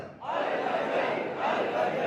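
A crowd at a Muharram majlis chanting the slogan "Ya Imam al-Muntazar" in unison, a loud sustained roar of many voices that swells and holds for about two seconds.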